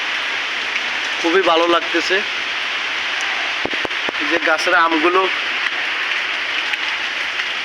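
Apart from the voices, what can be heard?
rain falling in a village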